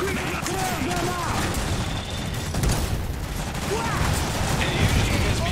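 Continuous dense battle din in the real-time strategy game Iron Harvest, with rattling gunfire, mechanical clanking and distant booms layered steadily throughout, while voices call out faintly over the chaos.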